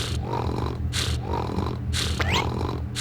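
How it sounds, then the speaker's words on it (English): A sleeping character in the anti-RPG video game Moon snores in a steady rhythm, with several rough, breathy snorts close up over a low, droning game-music bed. "Make sure he snores a lot."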